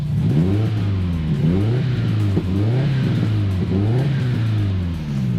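A 2005 Subaru STI engine runs close by, its revs rising and falling in a repeating cycle, a steady mid-pitched hum with no talking.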